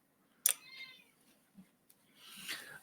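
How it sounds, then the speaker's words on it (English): A cat meows loudly in a few distinct calls, a sharp cry followed by drawn-out mewing, close by in an otherwise quiet room. "Hello, kitty cat. Why are you so vocal?"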